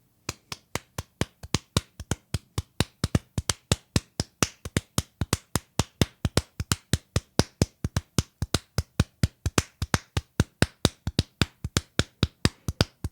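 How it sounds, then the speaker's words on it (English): Hands clapping a steady rhythm in an odd time signature for a techno groove, dozens of sharp, close, evenly spaced claps with recurring accent groupings and nothing else in the background. "so let's try to clap it."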